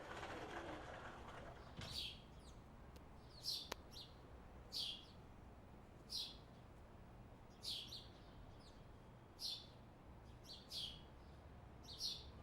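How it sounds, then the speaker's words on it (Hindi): Small birds chirp in short bright bursts, roughly one every second or so, faint and some distance away over a quiet, steady background hum. "चिड़ियों की आवाज कितनी प्यारी लग रही है।"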